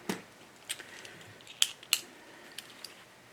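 Sharp scissors snip through fabric for sewing a sleeve hem, several crisp separate cuts spaced irregularly over a quiet room, no talking.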